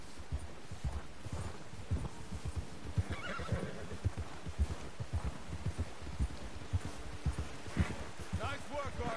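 Horse neighs and clip-clopping hooves from Red Dead Redemption 2 play as game sounds, with a voice talking over the in-game audio.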